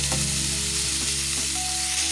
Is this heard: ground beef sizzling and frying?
yes